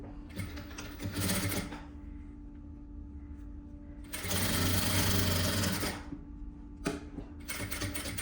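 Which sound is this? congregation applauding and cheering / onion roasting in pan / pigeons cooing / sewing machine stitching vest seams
sewing machine stitching vest seams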